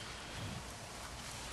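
Pouring rain falls outdoors beside a bilayered hydroculture plant bed, a dense, steady hiss of downpour with no pauses throughout.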